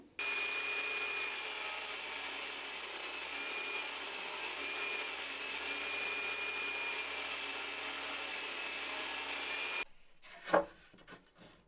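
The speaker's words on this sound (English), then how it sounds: "I'm going to do that by just running this back through the table saw and putting a little notch on the underside." A table saw cuts a notch in wood with a steady, loud, continuous whirring drone for about ten seconds, then stops abruptly, followed by a brief clatter of wood being handled.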